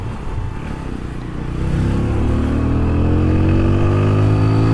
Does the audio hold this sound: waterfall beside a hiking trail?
no